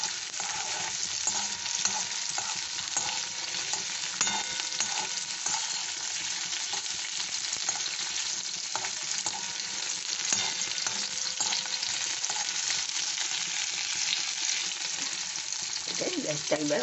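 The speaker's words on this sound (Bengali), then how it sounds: "ভাজা হবে না এটা, মানে একটু সতে করে দিয়ে দেবো ওর মধ্যে।" Chicken do pyaza sautéing in a pan, with steady frying sizzle and the scrape of stirring throughout, close and continuous, with occasional faint background voice.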